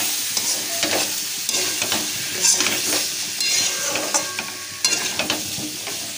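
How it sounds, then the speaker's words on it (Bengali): Fried taro pieces are stirred into a sizzling spice masala in a pan, with a steady frying hiss under repeated close spatula scrapes and light metal knocks. "এখন এর মধ্যে ভেজে রাখা কচুগুলোকে দিয়ে দিচ্ছি।"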